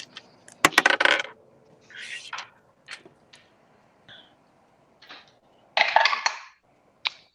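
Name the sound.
12-sided die being rolled on a table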